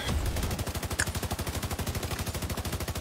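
Sustained rapid automatic gunfire in The Division 2 on PC, a fast steady rhythm of loud shots continuing without pause from start to finish.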